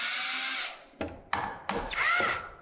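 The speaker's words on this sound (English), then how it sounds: "Take out the four screws." A power drill backs screws out of a patched Sheetrock wall repair: a short whining spin, then several quick bursts of the motor starting and stopping, close up and fairly quiet.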